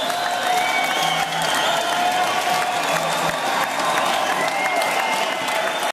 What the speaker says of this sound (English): give y'all selves a round of applause